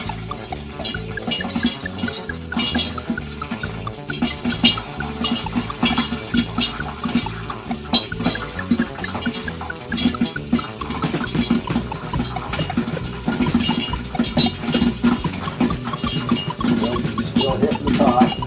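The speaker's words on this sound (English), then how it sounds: "It's starting to pop again, and we're going to let it wait a little bit until it quits hitting the top of the pan" Popcorn kernels popping in a covered pan on the stove, a dense, steady crackle of quick pops and ticks that runs the whole time at an even, fairly loud level.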